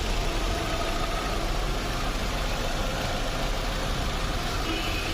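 A motorcycle engine idles steadily after carbon cleaning, a smooth, even low rumble held for several seconds with nothing else heard.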